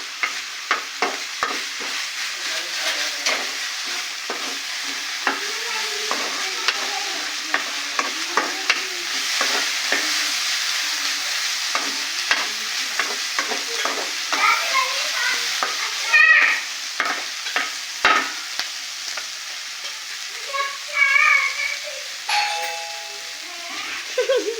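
A Telugu street-food style snack cooks in a frying pan, with a steady bright sizzle broken by frequent scraping stirs of a spatula, close and fairly loud throughout, no speech.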